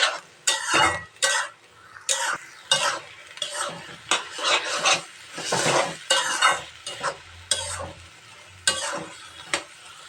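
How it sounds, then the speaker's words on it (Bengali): Pepoli greens are stirred together with fish in a hot pan, with loud repeated scraping strokes of a spatula over a continuous sizzle, coming in quick irregular bursts. "ভালো করে এই শাকটা মাছের সঙ্গে একদম মিশিয়ে দিতে হবে"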